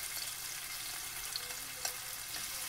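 Pepper frying in heated oil for a spinach omelette gives a steady, soft, hissing sizzle that carries on evenly without a break. There is one small pop near the end, and no one speaks over it.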